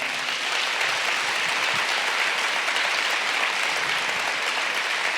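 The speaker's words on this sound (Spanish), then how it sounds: "dale un fuerte aplauso al Señor" Church congregation applauding loudly and steadily throughout, a dense continuous wash of clapping with no break.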